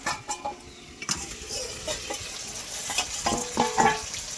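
Mutton and potatoes are stirred in hot oil in a home kitchen, giving a soft steady sizzle with scraping spoon strokes and sharper clinks near the end, close and fairly quiet with no talking.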